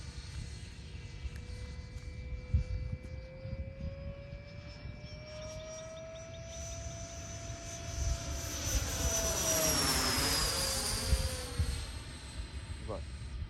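A Freewing A-4E/F Skyhawk RC jet with a high-pitched electric ducted-fan whine that rises in pitch as power is added and sweeps past nearby, with someone talking over it at moments.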